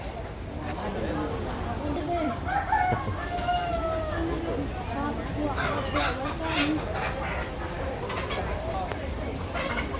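Chickens and a rooster at a meat market in the old bazaar of Dimapur, Nagaland, with a crow rising briefly over steady clucking and busy crowd chatter throughout.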